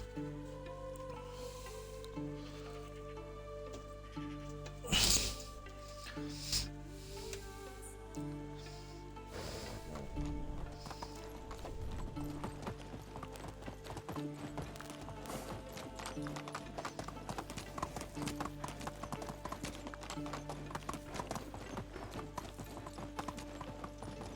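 Horse hooves clip-clopping while riding in the video game Medieval Dynasty, a steady rhythmic trot of close hoofbeats over background game music, with a sharp louder hit near the start.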